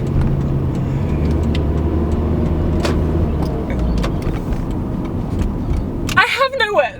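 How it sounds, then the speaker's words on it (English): A large noisy truck rumbles past close by in a steady, loud low drone that fills most of the stretch, then drops away as a voice speaks near the end. "Get your noisy truck out of here."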